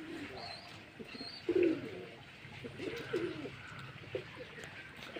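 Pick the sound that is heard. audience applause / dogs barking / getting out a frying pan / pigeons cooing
pigeons cooing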